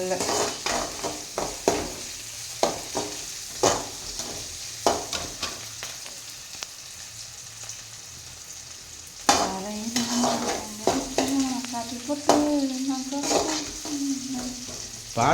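Tomatoes frying in a pan for Tamil-style fish curry, stirred with repeated scraping strokes over a steady sizzle that grows louder and busier in the second half.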